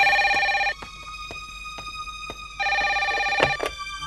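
Telephone bell ringing indoors, two bursts of loud trilling ring separated by a quiet pause, with faint clicks and thumps in between.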